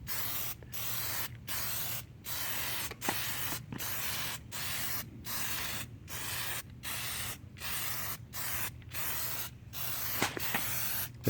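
Plasti Dip aerosol spray goes onto a car grille as a light first coat, laid down in even hissing bursts of about half a second each, repeated steadily around fifteen times with brief gaps, close and alone.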